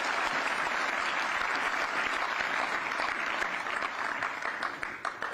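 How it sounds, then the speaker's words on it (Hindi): Steady applause fills a hall for Commonwealth Games 2022 medal winners in Haryana, a dense continuous clapping that holds its level and eases slightly at the very end. "तो एक बार उनके लिए भी तालियां बजाएंगे"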